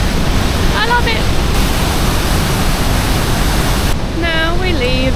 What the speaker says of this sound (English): It's a really nice waterfall though, look at it from the swingy bridge.